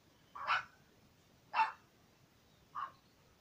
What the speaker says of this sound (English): they're barking because the horses are going past.